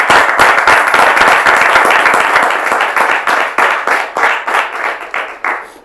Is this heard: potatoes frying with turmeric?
no